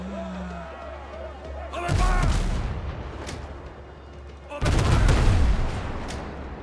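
Two heavy broadside booms from a frigate's many cannons in Windrose, each a loud rolling blast with a long decaying rumble, separated by a few seconds, over a steady low ambient hum.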